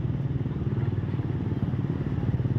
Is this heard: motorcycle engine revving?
yes